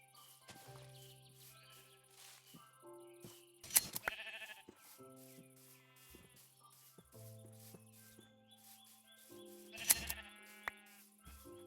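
Several Minecraft sheep bleat on and off, wavering nasal cries spread across the stretch, set against soft held background tones and a couple of louder rustling bursts.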